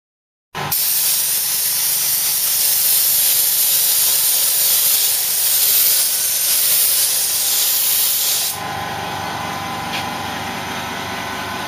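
Spray gun applying zinc-based Technogrip primer to the sill of a Ford Cortina Mk3 under restoration, a loud continuous hiss that cuts to a quieter background hum near the end.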